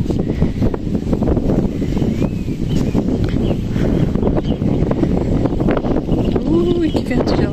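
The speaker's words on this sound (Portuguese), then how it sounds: "Ui, que vento gelado." Cold wind blows hard across a coastal marina where fishing boats are moored, a constant loud rushing roar buffeting the microphone throughout.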